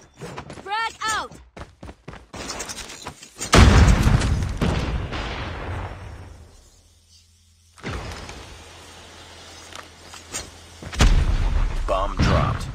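A frag grenade is thrown and explodes in a Call of Duty Search and Destroy match with a CR-56 AMAX. Sharp gunfire comes first, then a heavy booming blast with a rumbling tail, and another loud blast near the end, with voices heard over the action.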